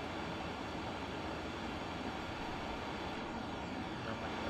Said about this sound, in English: they did have proper run sound for this train